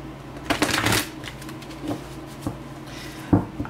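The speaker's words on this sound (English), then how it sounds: "Just give it a couple more shuffles." A tarot deck of Art Nouveau-style cards being shuffled by hand, a quick riffling burst followed by a few softer, separate card snaps, close and quiet with no talking.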